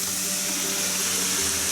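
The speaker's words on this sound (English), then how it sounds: "we've made it to Tonti Canyon, and this waterfall doesn't really turn into anything" A small waterfall in Tonti Canyon at Starved Rock State Park in spring gives a steady, close rushing splash of falling water, an unbroken hiss that stays even in loudness, with no voices.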